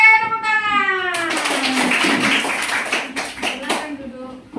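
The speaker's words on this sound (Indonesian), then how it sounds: "Oke, tepuk tangan." Children clapping their hands together in a classroom, a burst of dense, rapid claps close by with kids' voices mixed in, fading toward the end.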